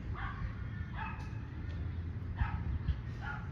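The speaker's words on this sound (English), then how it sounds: "It sounds like a damn chihuahua. They bark so loud and annoying." A chihuahua barks from a distance: about four faint, sharp yips spaced irregularly over a constant low background rumble.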